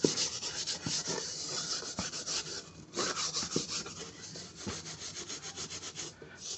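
Burnt-on crust scrubbed off a frying pan, a close, harsh rasping rub in steady back-and-forth strokes with short pauses, heard alone with no talking.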